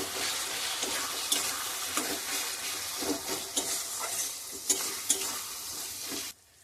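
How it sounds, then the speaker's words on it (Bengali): A spice paste with garlic, turmeric, chilli powder and a little sugar fries in oil for a fish curry, sizzling steadily up close as a spatula scrapes and knocks the pan, then stops abruptly. "এবারে মশলাটা ভালো করে কষিয়ে নেব"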